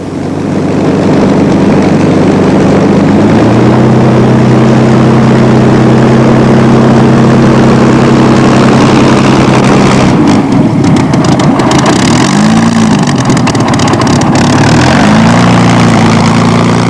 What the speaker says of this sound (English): Alex Henshaw was invited to taxi AB 910